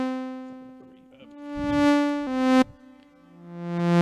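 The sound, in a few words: modular synthesizer sound with reverb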